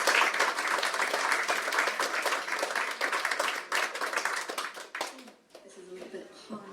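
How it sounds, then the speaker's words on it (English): An audience at a literary reading event applauds an author with dense, steady clapping for about five seconds that then thins out and fades into quiet room sound. "Round of applause for Lindsay,"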